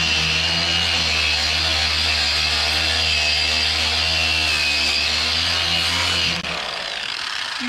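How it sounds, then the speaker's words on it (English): A Scotch-Brite pad polishes a metal tilt table with a loud, steady abrasive whir and motor hum that runs unbroken for about six seconds, then cuts off and leaves a quieter tail. "I think we'll use one of these Scotch-Brite pads and see what that does on here."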